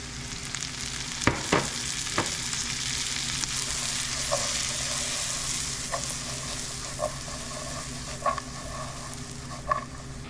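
Shallots fry in butter with a steady sizzle filling the pan, a few sharper crackles and stirring clinks standing out now and then; no one speaks.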